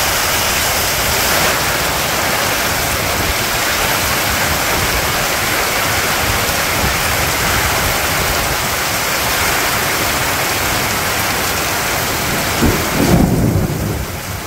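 Heavy village rain pours in a loud, steady roar close by, with deep rumbles of thunder rolling underneath and no talking.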